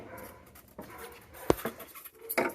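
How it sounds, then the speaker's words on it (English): A small dog barks in the background of a kitchen during the installation of an under-counter kegerator, giving one sharp yip and then a fainter bark moments later, over quiet room noise. "you hear a little dog in the background barking now"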